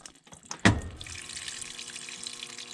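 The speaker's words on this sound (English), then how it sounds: "So you can see when I turn the water on," Water rushes into a washing machine through its inlet valve, starting with a sharp clunk and then a steady hissing flow that keeps running at moderate volume.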